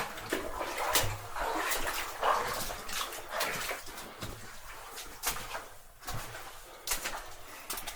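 Footsteps wade slowly and carefully through water in a flooded old mine adit, giving close, irregular splashes and sloshing over a continuous watery wash.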